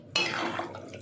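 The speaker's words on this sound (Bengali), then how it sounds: "আমি জল দিয়ে দিলাম সেদ্ধর জন্যে" Water splashes into a pot of taro set to boil, a sudden close pour that trails off into a wet rush over about a second.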